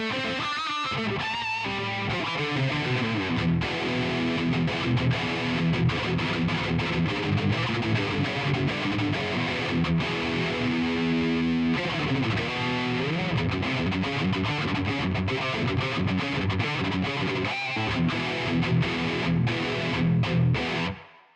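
Electric guitar through a Kuassa Efektor distortion plugin on its lead setting, heavily overdriven sustained notes and chords played continuously and loud for about twenty seconds before cutting off, no voice.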